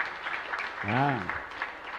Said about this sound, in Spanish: Otro fuerte aplauso para esta señora.